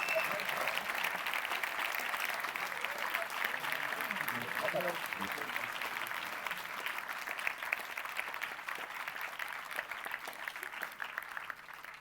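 A crowd at a doctoral degree ceremony applauds the new graduates with sustained, even clapping that runs through the whole stretch at moderate distance, with a voice speaking over it partway through.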